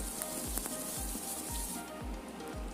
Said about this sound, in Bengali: সর্ষের তেল দিলাম তেলটা গরম হওয়ার পর আলু দিলাম